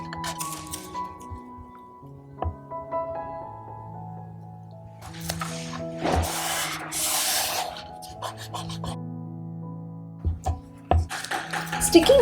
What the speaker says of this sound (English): Using masking tape and sticking all around the paper.